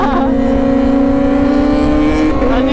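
A Kawasaki ZX motorcycle engine roars loud and close as it speeds along a straight road, its steady high-revving note holding throughout with a slight rise near the end.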